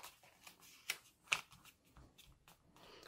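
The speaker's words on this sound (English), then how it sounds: "This is our 7-inch side, folding it in thirds." Paper being folded into thirds by hand, soft crisp crinkles and creases in a quiet room, several faint separate rustles with two slightly sharper snaps.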